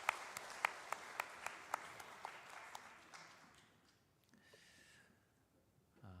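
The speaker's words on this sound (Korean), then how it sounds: "우리 귀한 찬양 올려주신 솔로몬 찬양대위에 감사와 격려의 박수하도록 하겠습니다" A church congregation applauds the Solomon choir after the Sunday service hymn, with a few sharp, regular claps standing out at first, then the applause thinning out and fading to near silence.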